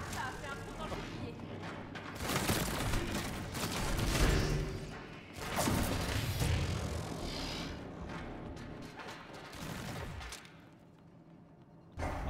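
Gunfire in the video game Split Fiction, a dense continuous barrage of shots and thuds with a sustained rumbling mix, steady over most of the stretch.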